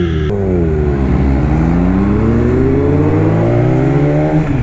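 Kawasaki Ninja H2 supercharged sport motorcycle revving hard, rising in pitch as it accelerates, easing off, then climbing again, loud, close and continuous with no talk.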